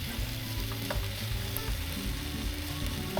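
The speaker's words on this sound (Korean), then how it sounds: "베이컨이 구부러지지 않게 잡아가면서 구워주세요." Bacon strips fry in a pan over low heat with a dense, even crackle and sizzle, close up and unbroken, no talking.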